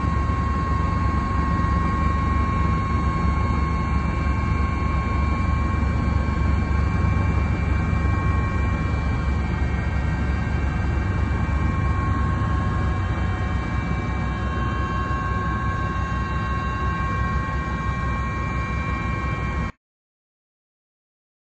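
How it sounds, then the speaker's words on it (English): A loud, steady helicopter engine drone with a whining tonal hum holds constant for about twenty seconds, then cuts off abruptly. "Loud helicopter noise."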